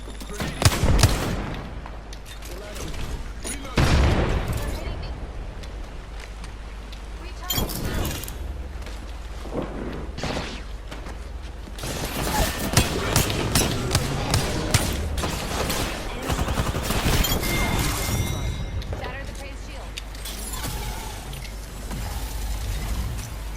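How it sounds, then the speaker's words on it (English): Apex Legends gameplay on PS4 with dense bursts of automatic gunfire and single shots in rapid fire sequences, loud and sharp across the clip, with someone talking over parts of it. "I shot at an enemy shield."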